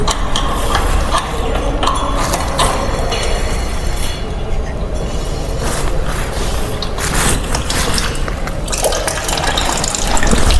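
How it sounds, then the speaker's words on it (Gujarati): Water gushes and splashes steadily out of a car engine's port after the engine coolant temperature sensor is unscrewed with a 19 mm spanner, a loud continuous rushing flow with no talk. "અહીંયા જે પાણી નીકળે છે ને એને બંધ કરી દો ભાઈ"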